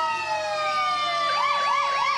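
Fire engine siren at a night parade: a loud, steady wailing tone that shifts into rapid rising-and-falling yelp sweeps partway through, with no talk over it.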